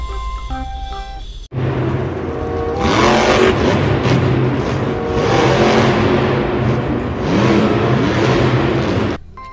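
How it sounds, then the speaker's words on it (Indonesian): A blue toy monster truck roars with a loud, sustained engine-revving sound that starts abruptly after a brief tone, then swells and surges in waves like a racing car accelerating. "ini mobil monster"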